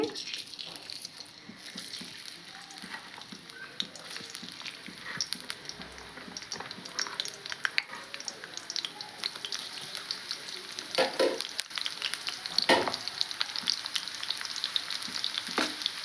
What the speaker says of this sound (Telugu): ఉల్లిగడ్డ ముక్కలు వేస్తున్నానండి.